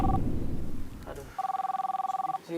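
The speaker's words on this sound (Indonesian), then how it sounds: "Gak lama kemudian datang telepon masuk." A telephone rings for an incoming call, its electronic two-tone warble pulsing in a rapid, even burst after a brief stretch of rumbling background noise, loud and close.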